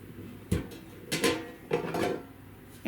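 A SAKUCHI air fryer's metal cooking basket is pulled out and handled, giving several close, moderately loud clanks and rattling knocks spread over a few seconds, with no talking.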